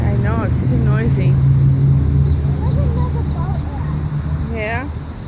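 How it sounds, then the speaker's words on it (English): Road traffic rumbling beside a canal lock during a boat tour, a steady loud low drone of engines with a passing car, as people talk nearby and a dog barks briefly. "Traffic. I know, it's too noisy."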